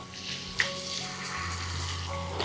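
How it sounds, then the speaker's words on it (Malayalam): Masala chicken fries in a batch in hot oil mixed with wheat flour over a low to medium flame, giving a steady, close crackling sizzle with a faint tap partway through. "ഞാനിപ്പോൾ 2 ബാച്ചായിട്ടാണ് ഇത് ഫ്രൈ ചെയ്തെടുക്കുന്നത്"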